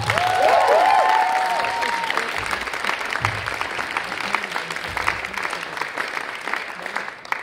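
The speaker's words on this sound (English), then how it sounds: "So, big round of applause for them." A theatre audience at a Shakespeare Hamlet production breaks into a big round of applause, steady and fairly loud, holding for several seconds with brief tonal sounds early on before fading slightly toward the end.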